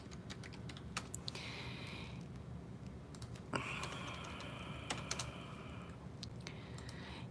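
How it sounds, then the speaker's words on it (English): Steady typing on a computer keyboard, with bursts of quick key clicks at close range over a constant background hiss and no talking. "And I'm just going to type in job searching."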